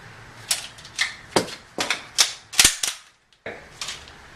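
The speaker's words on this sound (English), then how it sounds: "rack it once, and then as I'm going forward to touch my muzzle, or to grab my muzzle, I'm hitting the forward assist button at the same time" An airsoft M4 rifle is racked and its forward assist struck, making a rapid series of sharp metallic clacks and snaps. They are close and loud, with a brief silent gap before a final click.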